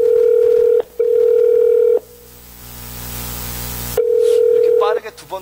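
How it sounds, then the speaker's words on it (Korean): A telephone ringback tone sounds in short steady beeps, two quick rings broken by a brief gap, then a pause of line noise before another ring starts; the call is being rejected, and faint noises follow at the end. "이렇게 빠르게 두 번 울리면 이거 수신 거부."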